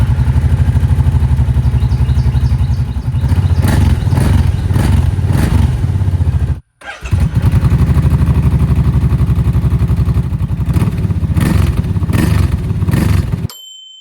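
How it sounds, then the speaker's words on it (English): Kawasaki Brute Force 750 ATV idling and revving with its stock exhaust baffle still in place, a loud close-up engine rumble with repeated throttle blips, a brief cutoff midway, then more revving before it stops. "Here's a before sound."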